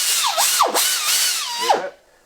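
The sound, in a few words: air-operated valve grinder machine running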